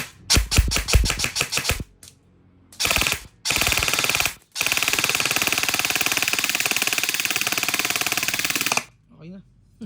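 Rapid bursts of sharp mechanical airsoft gun shots at about 410 to 420 FPS: a few short volleys, then a long continuous stream of fast clicking fire, ending in quiet.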